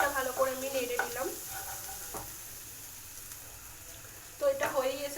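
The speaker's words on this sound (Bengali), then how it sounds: "তো এটা ভালো করে আমি নেড়ে নিলাম।" Egg bhurji scrambled in a pan over a high flame, with a steady hiss of sizzling and scraping stirs throughout, and someone talking over it at the start and end.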